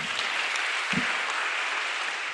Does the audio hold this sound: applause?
yes